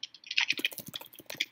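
Rapid keystrokes patter on a computer keyboard during an online typing race, a quick, uneven burst of close, crisp clicks with no talking.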